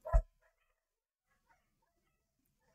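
A single short dog bark at the very start, loud and close, followed by near silence with only faint scattered sounds.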